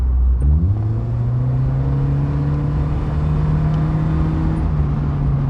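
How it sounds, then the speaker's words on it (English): Mugen Honda Fit with a CVT pulling away from a stop up a hill, engine note rising quickly then holding a loud, steady droning pitch close by as it climbs. "So this is driving up a hill from a stop"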